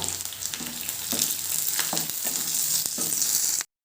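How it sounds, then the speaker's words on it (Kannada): Onions and curry leaves sizzle in a pan, a continuous near crackle broken by a few quick stirring scrapes, then it cuts off abruptly. "ಚೆನ್ನಾಗಿ ಫ್ರೈ ಆಗಬೇಕು ಈರುಳ್ಳಿ ಕರಿಬೇವು ಹಾಕ್ತಾ ಇದ್ದೀನಿ"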